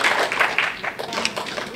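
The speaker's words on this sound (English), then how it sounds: "Let's give them a applause" A small audience at an NYIT MBA program event claps for the program's supporters, a brief patter of individual close claps of moderate loudness lasting under two seconds.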